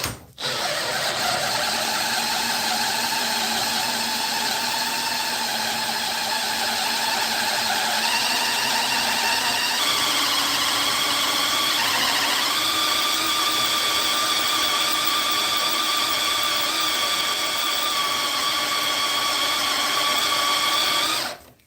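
A DeWalt impact driver drilling pilot holes in steel: a loud, continuous whirring rattle for about twenty seconds that shifts pitch slightly partway through as the bit works the metal.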